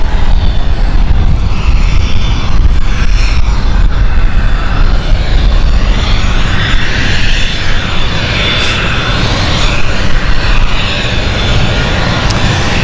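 An airliner departing on a Milan flight at London City Airport roars loudly and continuously, its jet engines a heavy, close rumble with a rising hiss, unbroken by talk.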